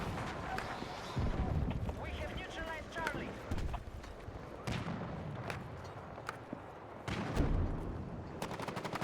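Rapid bursts of gunfire and scattered single shots from the video game Battlefield 6, some crisp and close and others further off, with people talking over the action.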